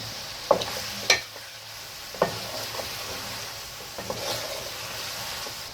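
Tomatoes and green chillies are stirred in a pan of chicken kachnar gosht: a steady sizzle runs beneath a few sharp scrapes of the spoon against the pan, fairly close and unaccompanied by voices.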